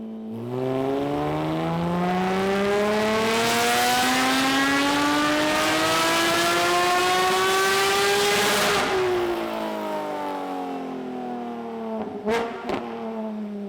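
A Porsche 718 Cayman GT4 with competition headers and over-axle pipes revs steadily upward on a dyno for several seconds in a loud, sustained exhaust roar, then drops off, followed by a couple of sharp pops.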